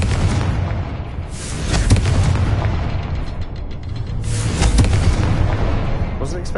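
Fiery Confringo spell blasts in Hogwarts Legacy, two heavy booming explosions a few seconds apart, each with a rumbling tail and crackling debris, loud and close amid combat noise.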